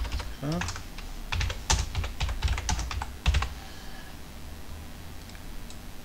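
Someone types on a computer keyboard, entering a website title in English: close, crisp key clicks in quick irregular bursts, then slowing to a few scattered taps before stopping.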